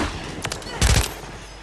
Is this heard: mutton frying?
no